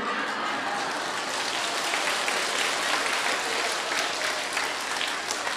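A broad, even wash of applause from a crowd, loud and continuous throughout with no voices standing out.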